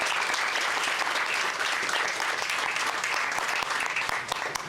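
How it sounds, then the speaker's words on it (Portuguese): A crowd applauds at a carnival-related music event, loud, dense and continuous clapping filling the whole stretch. "Um forte aplauso para você também"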